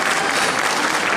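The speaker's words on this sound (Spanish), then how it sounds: "El primer aplauso ya me gané." Ceremony audience applauding, a dense, steady wash of clapping that fills the whole short moment with no voices over it.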